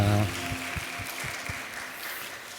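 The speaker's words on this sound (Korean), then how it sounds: "서로에게 축복의 박수를 드립니다" Church congregation at a Sunday service clapping for one another, broadband applause with a few low thumps and a short musical tone fading at the start, continuous and moderately loud.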